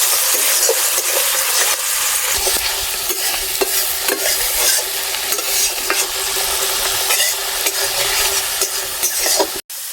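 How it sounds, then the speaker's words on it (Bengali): Ginger and cumin spice paste being stirred and fried in a pan for a village-style Bengali tel koi fish curry: a steady, close sizzle with scraping stirring strokes throughout, and no voices. "এবারে মশলাটা আবার ভালোভাবে কষিয়ে নেব।"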